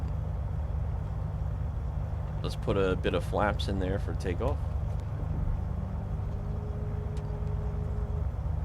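A Beechcraft V35 Bonanza piston engine in Microsoft Flight Simulator holds a steady low drone at taxi power while someone talks over it briefly.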